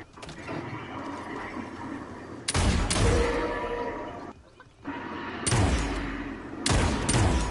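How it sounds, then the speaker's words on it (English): Bursts of rapid gunfire crackle in loud sustained volleys, separated by short lulls, with a broad rumbling noise underneath, in the video game Realm Royale. "I heard nearby gunfire."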